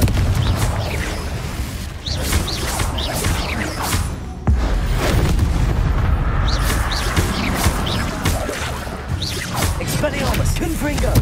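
Confringo and Expelliarmus spells fired repeatedly in Hogwarts Legacy, a dense stream of booming bursts, whooshes and crackling impacts with a sharp crash midway, loud and continuous, with a voice faintly underneath.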